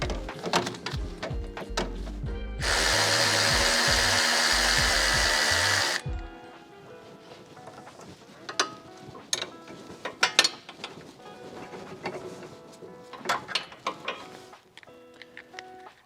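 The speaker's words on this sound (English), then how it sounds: "we'll remove the end links from the sway bar using a 14mm socket on a driver" A power driver with a 14mm socket removing the sway bar end links on an NA Miata, giving a loud continuous whirring burst of about three seconds, then scattered metallic clicks, ratcheting and clanks of tool on bolt.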